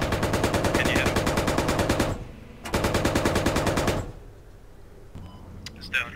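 Automatic gunfire aimed at an enemy technical vehicle in a video game: two long, rapid, loud bursts separated by a brief pause, then near quiet with a few faint clicks and clatters.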